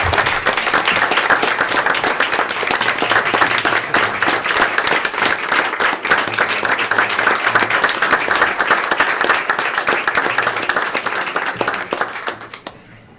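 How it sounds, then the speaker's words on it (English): Sustained applause from a sizable audience at a school board meeting, steady and loud for several seconds before fading out at the end. "take a deep breath and give some applause for Deb Keller for the fine work she's done"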